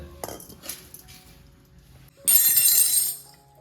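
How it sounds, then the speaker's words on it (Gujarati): A spoon clinks in a dish of curd and millet rotlo, with a few light taps early on, then a louder scraping, clattering burst near the end. No one speaks. "ચમચી"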